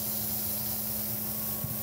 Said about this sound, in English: spray seal this again with the Mod Podge aerosol